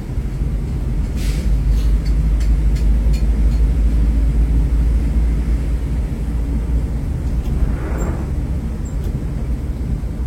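A Mercedes-Benz 1836 Maxibus cruises slowly down the road, a steady heavy engine drone and road rumble heard close up from inside, with a few faint clicks and a passing swell near the end.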